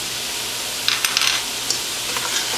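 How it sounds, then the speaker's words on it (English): Mushrooms and onions with parsley and basil sizzle steadily in a pan while a utensil scrapes and stirs, brief clinks and scrapes over the constant frying hiss. "And we'll just give that a little stir"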